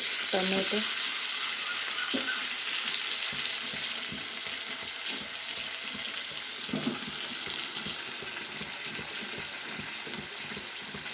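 Tomato added to fried onion and curry leaves in a pan for mango egg curry, giving a loud, steady sizzle with scattered clinks and stirring scrapes throughout.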